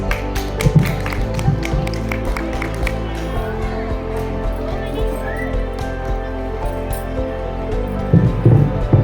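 At a school's annual prize distribution, an audience claps for a rhyme recitation winner: scattered crisp claps at first, thinning out, then a short livelier burst near the end, with a voice over the hall.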